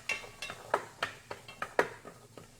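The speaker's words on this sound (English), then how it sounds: "I'm going to add in my carrots because they will also take a longer time to cook." Carrots are added to a cooking pot for turkey curry soup, making a run of about nine sharp clinks and scrapes in an uneven rhythm, close and fairly crisp, with no talk.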